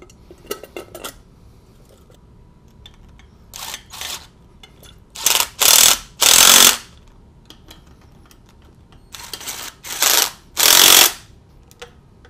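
Ratchet wrench fitting the intake manifold onto a 2004 MINI Cooper S R53 supercharged engine during a rebuild: a few light ticks, then short bursts of close, crisp ratcheting in two groups.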